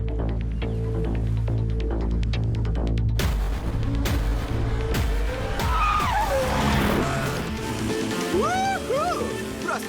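Race cars in a Sonic Boom cartoon, with a loud rumbling engine drone, then sharp tire squeals and skids layered over the racing noise, plus a few brief cartoon sound effects near the end.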